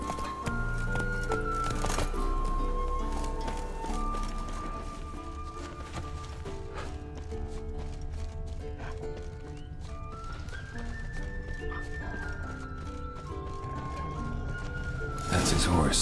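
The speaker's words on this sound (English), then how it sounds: "That's his horse." Horse hooves clip-clop steadily in The Witcher 3, mixed with an orchestral game score that carries the scene; near and moderately loud throughout, with a brief swell of music at the start and end.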